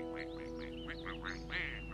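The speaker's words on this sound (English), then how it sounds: "those ducks are a very rare breed indeed" Several cartoon ducks quack in a quick run of nasal calls over a steady background hum, the last quack the loudest. The birds are a rare breed in a bright shade of green.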